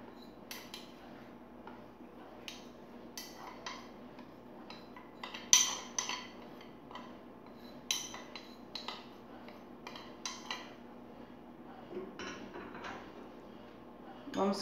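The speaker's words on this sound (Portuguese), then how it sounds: "Já pode misturar tudo junto, tá bom, gente? Vai ser tipo uma pastinha." A small spoon scrapes and clinks against a bowl while a cheese paste is mixed, giving quiet irregular taps and scrapes over a faint hum.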